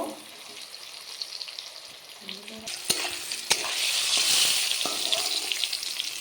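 Shrimp (chingri) frying in hot oil give a steady, close sizzling hiss throughout. Clicks and scrapes from stirring sound over it, and the sizzle swells louder in the second half.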